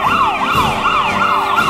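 Ambulance siren wailing loud and close in a steady, repeating rising-and-falling sweep, with a second siren tone layered alongside and road traffic rumbling underneath, no voices.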